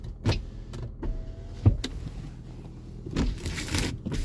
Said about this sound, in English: But yeah, all the windows work.